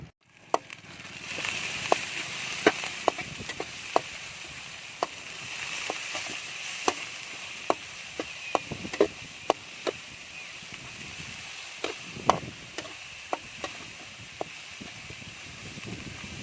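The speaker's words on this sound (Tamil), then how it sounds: "இப்போ புடலங்காய் போட போகிறேன்." Snake gourd sautéing in a pan with onions and green chili gives a steady sizzle with scattered sharp clicks and taps of a spatula against the pan, close and moderate in level, with no talking.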